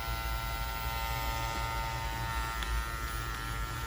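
An Andis Master cordless hair clipper running with its guard removed, a steady close electric buzz and hum holding at an even level throughout with no talking.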